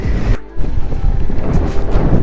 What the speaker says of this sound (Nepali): ए टोर्नाडो गाइज यस्तो हावा चलेको छ नि गाइज